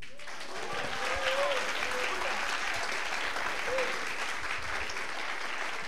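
Applause from a church congregation during a sermon, a steady dense wash of many hands clapping that holds evenly for several seconds, with a few faint voices calling out underneath.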